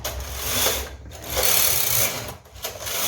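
A punch card knitting machine runs close and loud, its carriage sweeping back and forth in repeated rattling, clacking passes as the needles shift, with brief dips between strokes.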